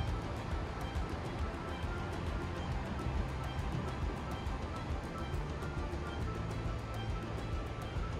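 A distant waterfall at a lookout on a walking trail at Arthur's Pass gives a faint, steady broadband rush that holds unbroken throughout.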